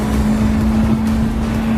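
A car at a Canadian car meet crawls along in first gear, its engine holding a steady low drone without rising or falling, loud and close throughout.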